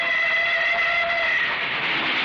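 A passenger train with sleeper berths pulls into a station, a loud steady rumble with sustained high whistling or squealing tones that fade partway through, no voices.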